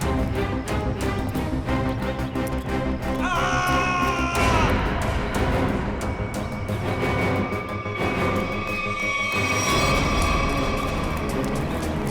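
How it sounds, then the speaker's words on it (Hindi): Loud, chaotic scene with shrill screams and yelling over a dense, noisy background, continuous throughout with brief sharper cries. "ये आवाज, ये चीखने की आवाज कहाँ से?"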